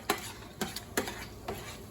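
Cornbread hoecakes fry in a pan with a soft, low sizzle. Four or five sharp metallic taps and scrapes ring out at irregular intervals, close and quiet.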